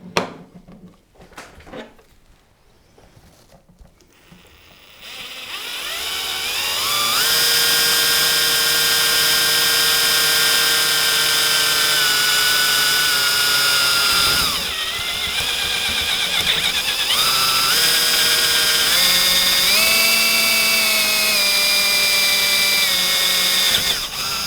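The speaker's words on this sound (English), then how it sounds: "And in this position, I'm drilling another hole from the side over there." A power drill bores a hole from the side for a parking brake assembly in a home-built cockpit, a loud sustained whine with the pitch rising and dipping as the load changes, preceded by a few quieter handling knocks.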